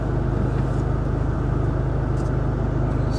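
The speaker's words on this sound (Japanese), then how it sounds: "なんかエンジンのこのビーっていうのが しますね" Honda Civic Type R FK2 engine giving a steady, buzzing drone heard from inside the cabin, a continuous low hum with no pauses throughout.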